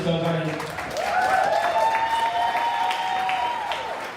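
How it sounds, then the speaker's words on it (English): An audience at a live painting competition gives a round of applause, steady crowd clapping lasting several seconds with a voice speaking over it. "we like to give them a round of applause for that"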